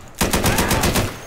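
Gunfire in a first-person shooter video game: a loud, close burst of rapid shots fired in quick succession for about a second, with no talking.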